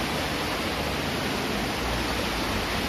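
River water flowing steadily at Lynmouth, Devon, as a loud, continuous broadband rush heard up close with no voices.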